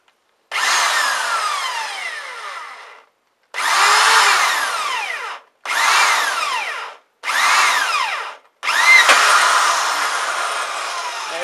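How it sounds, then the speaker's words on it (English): A power drill bores through the steel exhaust baffle plates of a Yamaha Dragstar in five short bursts, loud and close, whining with a grinding scrape and separated by brief pauses. "and so you don't burn out your drill bit."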